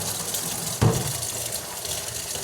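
A strong stream of running water gushes steadily and close by, with a brief louder splash near the start and no voices.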